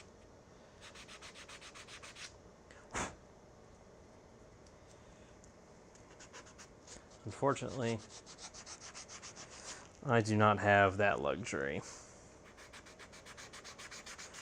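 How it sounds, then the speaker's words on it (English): Hand sanding with a fine-grit block: gritty scraping strokes in two bursts, the second louder and longer, with a brief spoken remark near the start. "this is just a kind of a fine grit sanding block"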